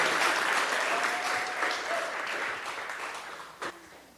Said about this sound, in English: Can we get a, special round of applause for valedictorian here?